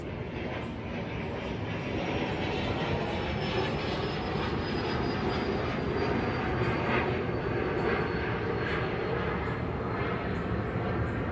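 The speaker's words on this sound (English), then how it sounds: "And if you hear the airplanes" Airplanes flying overhead, a steady broad roar that holds at constant loudness for over ten seconds, with no speech over it.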